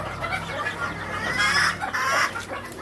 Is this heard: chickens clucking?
yes